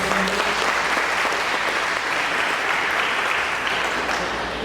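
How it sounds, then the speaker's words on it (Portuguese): A church congregation claps together in sustained, dense applause that stays loud and even from start to finish, with no spoken voice on top. "Você pode aplaudir ao Senhor Jesus."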